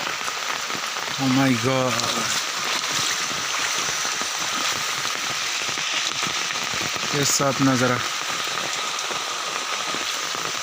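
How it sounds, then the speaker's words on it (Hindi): Steady heavy rain pours down throughout, a dense continuous hiss during flooding at a house, with a person briefly exclaiming over it twice. "कब बारिश छोड़ेगा ये तो मालूम भी नहीं है, ये तो छोड़ने का नाम भी नहीं ले रहा है।"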